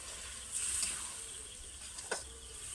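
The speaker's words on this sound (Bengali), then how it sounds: "তেলটা ছাড়ার পরে রাজমাটা ঢেলে দিচ্ছি।" Pre-boiled kidney beans (rajma) go into hot oil in a pan for a curry, producing a quiet, brief sizzle with a faint splashy burst and no talk.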